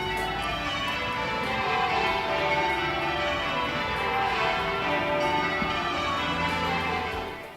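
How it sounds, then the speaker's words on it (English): Church bells peal continuously at Westminster Abbey in London, a dense, resonant wash of overlapping change-ringing tones that holds steady and loud throughout, with no voices. "The bells at Westminster Abbey rang out for more than 3 hours"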